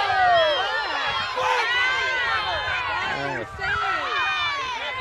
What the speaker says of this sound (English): Crowd's yelling on the sideline there a little bit